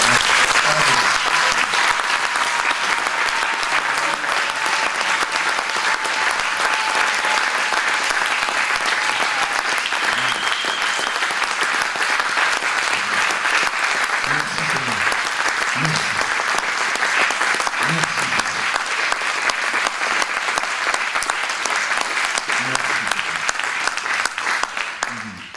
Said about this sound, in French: applaudissez Dieu un bon coup